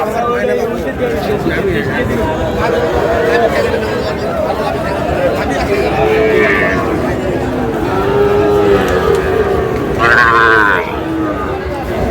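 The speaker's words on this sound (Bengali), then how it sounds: "ষাঁড়" A Sahiwal bull at a busy cattle market in Sylhet moos loudly several times, its long calls rising over constant crowd chatter and bargaining voices.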